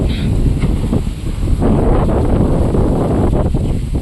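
Steady, loud wind buffeting the microphone at Magnesia Del Norte, Virac, Catanduanes, a continuous low roar with gusty swells throughout, nothing else standing out.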